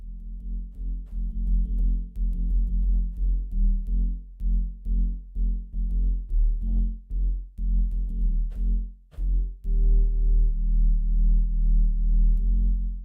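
Synthesized bass in a music mix being tweaked, a deep pulsing low tone in a steady rhythmic pattern of short repeated hits, loud and alone with no talk.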